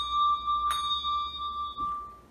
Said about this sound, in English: So let's start with the secondary bell again